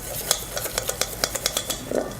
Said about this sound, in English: We're going to whisk those up.